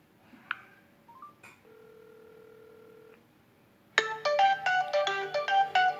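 An SK We VoIP office phone places an internal extension call: a few key beeps and a sustained tone, then after a pause a loud, rhythmic electronic ringtone melody plays in repeated bursts.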